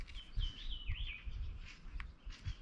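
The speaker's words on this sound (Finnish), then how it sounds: "Täällä on vielä linnutkin heräänä." Small birds call from the woods, a wavering thin whistle followed by a few short chirps, faint and fairly distant over a low rumbling outdoor background.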